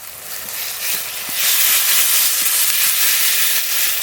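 Ginger, garlic, cumin and green chilli paste sizzling in a pan with tomatoes, a steady close hiss that swells louder partway through and holds, with no talking.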